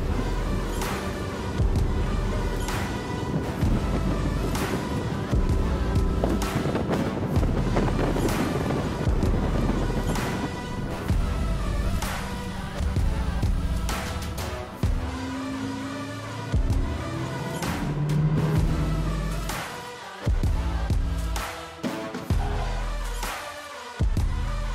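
A single V10 400 outboard motor on a Triton boat drones loudly with wind buffeting and rushing water, the engine note climbing briefly near the end before easing off.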